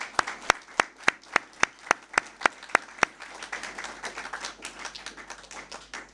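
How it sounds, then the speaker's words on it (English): Graduation audience clapping in unison, about ten sharp synchronized claps at a brisk even beat, then breaking into looser scattered applause that carries on more softly. "let's give us a very big clap and say, congratulations."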